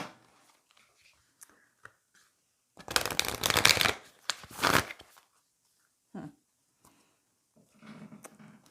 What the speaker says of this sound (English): I was just shuffling the white light oracle.